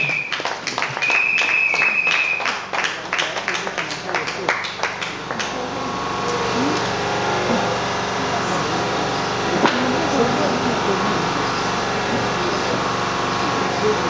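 Church congregation at a women's conference bursts into clapping and acclaim, a dense wash of hands that rises strongly at first then settles into a steady crowd murmur and scattered claps, with voices speaking over it.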